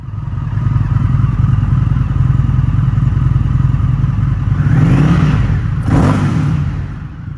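A 2019 Indian FTR 1200 S motorcycle engine idling loud and close with a deep, steady rumble, rising in one rev partway through before settling back, no talking.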